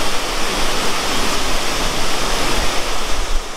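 Fast, icy mountain water rushing beside a hill road on the Pokhara to Kathmandu route in Nepal, a loud, steady, close roar of churning flow with no break.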